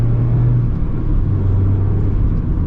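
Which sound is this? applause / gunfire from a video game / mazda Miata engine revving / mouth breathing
mazda Miata engine revving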